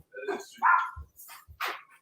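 A dog barks and yips in a short burst of three or four sharp, close calls with brief pauses between them, and no talk alongside.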